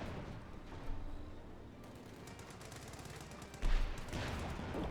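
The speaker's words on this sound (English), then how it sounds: "Sexton ready to fire as well" A Sexton self-propelled artillery gun firing in Company of Heroes 2, distant booming shots amid scattered small-arms fire, with a heavier blast near the end.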